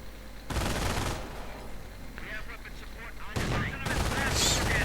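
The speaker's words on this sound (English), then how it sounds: "MG42's firing away gracefully" An MG42 machine gun fires away in a video game battle, with sustained loud bursts of rattling automatic fire layered over dense combat noise.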